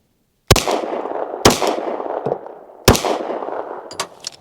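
Three loud, sharp unsuppressed gunshots from an SCT SC frame pistol firing 147-grain rounds at a range, spaced about a second apart with ringing decay and a smaller metallic click near the end.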